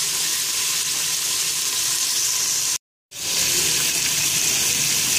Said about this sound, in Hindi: जिंजर गार्लिक पेस्ट को फ्राई कर लेने के बाद मैं इसमें डालेंगी चिकन।